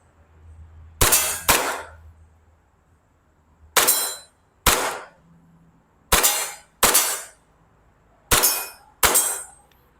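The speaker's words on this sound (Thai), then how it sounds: "โอเคไหมยิงได้ปกติ นะครับลูกหมดสไลด์ค้างตัวปืนไม่มีปัญหานะครับ" WE M1911A1 BB pistol firing at a 10-meter target outdoors, sharp cracks in paired double shots, four pairs evenly spaced, loud and close with no talking.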